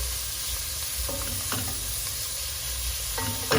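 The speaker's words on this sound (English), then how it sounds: "I'm just going to slide in my pork. Basically, it's pork belly, that's what it is. And I'm going to try to brown that real quick" Pork belly browning in a hot pan, a continuous close frying sizzle with occasional louder crackles and scraping stirs, no voices.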